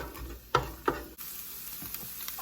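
Onions cooking in olive oil in a skillet for a mushroom risotto give a soft, steady sizzle close by, with two sharp stirring scrapes early on and light clicks of the utensil afterward.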